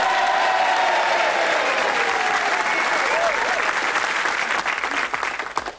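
Sustained, loud applause from a studio audience fills the clip, steady clapping that tapers off at the end.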